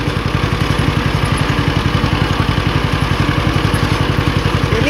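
A '50' tractor engine runs steadily during haying, its close, even chug pulsing in a fast regular rhythm for the whole stretch with no talk over it.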